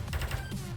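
Rapid blaster shots from a double-shot weapon in the VR game Space Pirate Trainer, a short burst of several close, punchy zaps packed into under a second.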